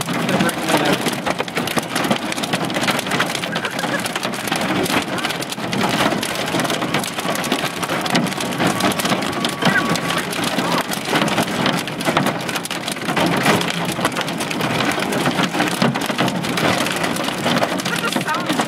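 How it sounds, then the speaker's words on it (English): Large hail pounds a car during a Mississippi Delta storm chase: a dense, steady hammering of hard stones on metal and glass that carries on without a break, close and loud throughout. "Oh my gosh, that's huge hail."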